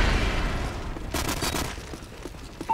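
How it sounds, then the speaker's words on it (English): Airstrike explosions in Call of Duty: Modern Warfare 3 on Wii: a rumbling cluster of booms swells in the middle and fades into low background noise, fairly distant and muffled. "Enemy airstrike."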